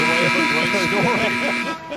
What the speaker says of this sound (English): The final buzzer.